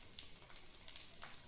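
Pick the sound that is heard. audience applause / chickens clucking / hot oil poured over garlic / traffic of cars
hot oil poured over garlic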